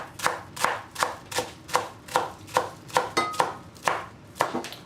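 A knife chops through cabbage on a cutting board in a home kitchen, about eleven crisp, evenly spaced strokes in a steady rhythm, close and clear with no talking.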